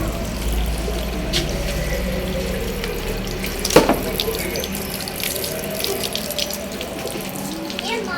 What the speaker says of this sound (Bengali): জল ভর্তি হয়ে গেছে এটাই